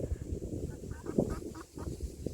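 A Cinnamon Queen hen clucking in low, repeated throaty calls, fairly close, with a few louder squawks standing out against steady background noise.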